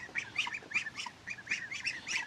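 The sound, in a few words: ducks quacking in their pen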